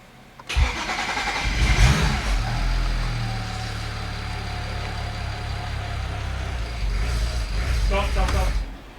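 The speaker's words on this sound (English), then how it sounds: "All right, we'll try and start it." BMW E92 335i cranking and starting after an engine swap, a sudden catch then a steady rough idle close by, with a brief rev change near the end.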